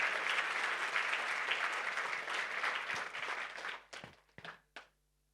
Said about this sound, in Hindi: जोरदार तालियां होनी चाहिए. अ golden round of अपलॉड्स I want from your side.